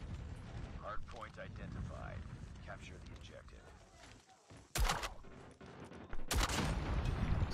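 Two loud shotgun slug blasts in a video game, one near the middle and another shortly after, each a sharp broadband burst standing out over a player talking excitedly with game background noise.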